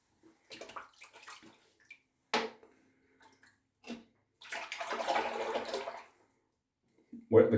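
Water runs intermittently from a tap as a razor cartridge is wetted before shaving, with brief splashes, then a few seconds of steadier flow, all quiet and close.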